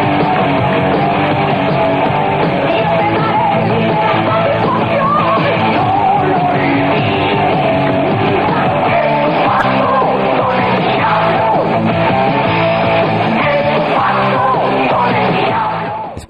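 A heavy metal song plays loud and dense throughout, with distorted guitars, driving drums and harsh shouted vocals at steady full volume.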